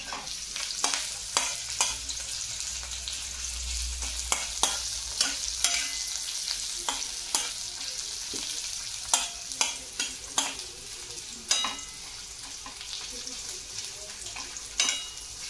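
Onions stirred and sautéing in hot oil for fried rice, a steady close sizzling hiss punctuated by regular clicks and scrapes of a spoon against the pan.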